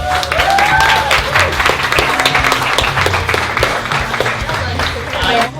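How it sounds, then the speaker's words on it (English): A film cast and crew's behind-the-scenes gathering breaks into sustained, dense applause from a crowd, loud and steady throughout with cheering voices mixed in. "And a round of applause for the extras, please."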